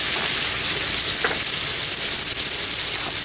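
Bacon sizzles loudly in a hot pan as it goes back in, a steady dense frying hiss with faint stirring, close and alone with no voices, for a clam dish cooked in wine.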